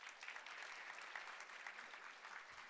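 An audience applauds a guest speaker at a World Food Day event: dense, steady clapping from many hands, fairly distant and even, holding throughout with no talking.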